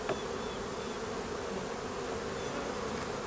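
Honey bees drone at an opened beehive full of nurse bees tending brood, a dense steady buzzing that fills the whole moment, close and even, with no talk.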